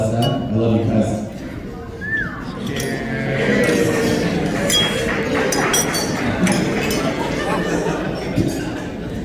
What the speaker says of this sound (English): So let's raise your glass though, and cheers to Ryan and Alessa.